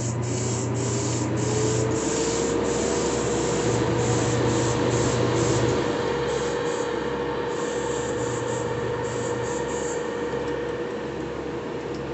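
Pearl white paint sprayed in light coats onto a trout-pattern swimbait, a steady hissing airbrush spray that runs continuously with slight pulsing, close and fairly loud, no talking.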